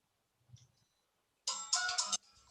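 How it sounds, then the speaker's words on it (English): A mobile phone ringtone sounds in a short, bright burst of melodic tones after a faint brief sound, then tails off quietly into low background noise. "Yeah, that's my phone."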